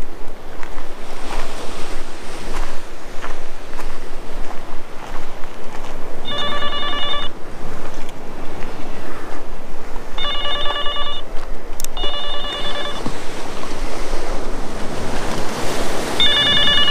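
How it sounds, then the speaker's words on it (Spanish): Telephone ringing in bursts, three or four electronic ring patterns spaced across the clip, over steady ocean surf and wind on the coast at Punta de Mita, Nayarit. "Sonando el teléfono"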